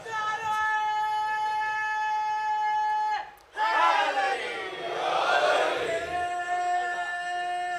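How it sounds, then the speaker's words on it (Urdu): A crowd at a Shia majlis chants religious slogans, loud sustained unison voices that break off briefly and then surge back in a second rising chant. "یہاں اب یہ سادہ سادہ لوگ نعرے لگا رہے ہیں"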